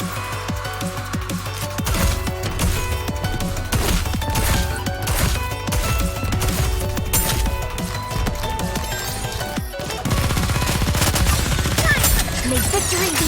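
Rapid bursts of gunfire in the anime-style shooter Nikke: Goddess of Victory, with dense machine-gun volleys and heavy impacts that run loud and continuous across the clip.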